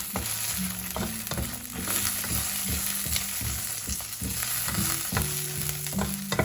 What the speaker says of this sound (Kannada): ಈಗ ಕರಿಬೇವಿನ ಸೊಪ್ಪು ಹಾಕ್ತೇನೆ. 1 ಎಸಳು, 1-2 ಎಸಳು ಕರಿಬೇವಿನ ಸೊಪ್ಪು ಹಾಕ್ತೇನೆ.